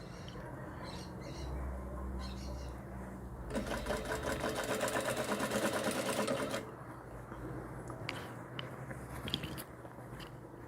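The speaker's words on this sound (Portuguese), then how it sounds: "E vou passar uma costura unindo uma na outra." Sewing machine stitching a gathered ruffle onto the skirt of a cloth doll's dress, a dense steady mechanical whir building for a few seconds in the middle, with softer handling sounds and light clatter before and after.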